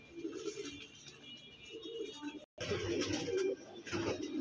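A Punjabi pigeon coos in a low, repeated warble, with overlapping bird calls and a steady background hum; the sound cuts out briefly near the middle, then the cooing returns louder.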